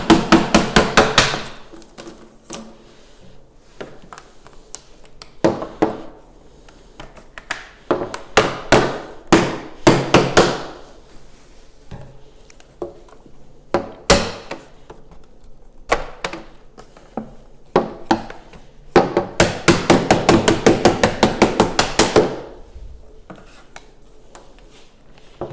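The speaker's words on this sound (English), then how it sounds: "Okay, let's grab a hammer. And just a light tap." A hammer lightly taps a window frame to knock out insulated glass, making bursts of rapid, sharp knocks in quick runs separated by pauses, close and fairly loud with no talking.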